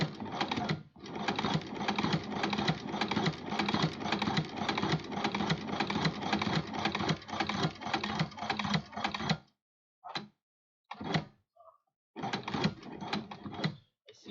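A sewing machine stitches a guitar strap, running in a long steady rapid clatter, then in a few short bursts after a stop.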